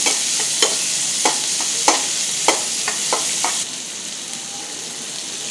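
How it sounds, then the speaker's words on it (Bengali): Half a cup of onions sizzles steadily in leftover oil while a spoon scrapes and taps the pan every second or so, a close, even frying hiss that drops slightly quieter near the end. "আমি অবশিষ্ট তেলগুলোর মধ্যে পেঁয়াজ দিয়ে দিব হাফ কাপ পেঁয়াজগুলো একটু ভেজে নিব"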